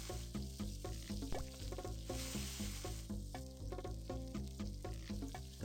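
A burger patty sizzles on the grill in the cooking game Papa's Burgeria, a steady crackling fry sound under soft background music.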